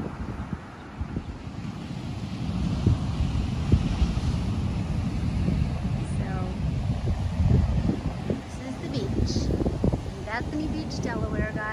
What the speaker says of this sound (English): Look how big those waves are.